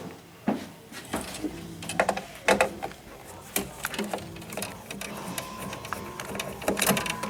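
Screws being backed out and a rectifier board lifted off its standoffs inside a pinball machine, a run of close, irregular clicks, taps and scrapes of metal and wood with a faint mechanical whir.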